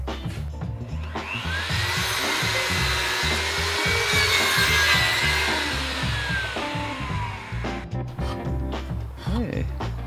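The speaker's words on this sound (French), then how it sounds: "On sort la scie à onglet et c'est parti." A miter saw cuts through a wooden roof board (volige) for a traditional timber-frame roof, one long sustained whine and grind running almost the whole time, with low knocks and thuds around it.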